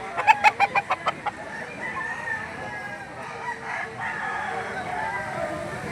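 Chickens at the Lipa auction market cluck in a quick rhythmic burst close by, followed by softer scattered clucks and crowing amid a busy market murmur.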